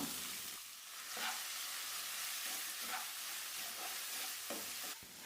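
Finely chopped, peeled ginger sautés in oil over low-to-medium flame, giving a steady close sizzle broken by intermittent scraping stirs, with no talking.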